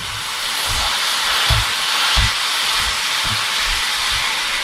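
A kilo of beef mince sizzles loudly in a hot pan with a constant steamy hiss, broken by a few low thuds as it is moved around.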